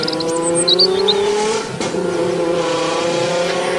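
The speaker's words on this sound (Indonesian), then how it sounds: "Mobil Pak Markasan dijepit di tengah-tengah" A dramatised car chase sound effect for a spoken story, in which two trucks squeeze a car between them until it overturns: a loud, steady engine roar with sharp high tire squeals early on and a brief thump midway.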